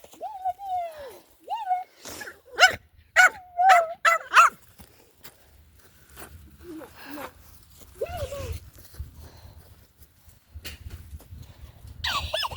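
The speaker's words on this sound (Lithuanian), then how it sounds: "Va, dar vieną šuo." A dog barks several times in quick succession, loud and close, mixed with whining yips and people talking nearby.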